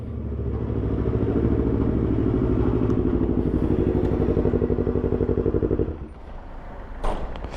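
A Yamaha R25 motorcycle engine runs up to a loud, sustained, throbbing drone close by, then drops off sharply near the end to a quieter idle with a brief blip.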